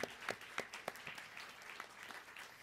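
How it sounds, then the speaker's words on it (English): Applause at a student council meeting, a modest room of people clapping with a few sharp, distinct claps standing out at first, then settling into softer, scattered clapping that fades slightly. "and for that alone, you deserve a round of applause."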